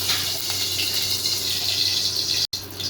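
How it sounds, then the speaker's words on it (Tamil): Oil being poured into a pan to temper a tomato dal rasam: a steady, close liquid pouring and trickling sound that runs evenly for about three seconds, with a brief break near the end and no talk. "இப்போ வந்து எண்ணெய் ஊற்றிக்கலாம்."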